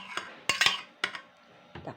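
Metal utensils clink and scrape against a lidded casserole pot as banana cue is transferred into it, a few sharp bursts of clatter close by with short quiet gaps between.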